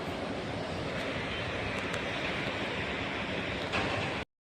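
Beas river in Kullu, a rafting stretch fed from Manali, rushing in a steady loud broadband roar of fast water with wind noise, continuous throughout and no talking.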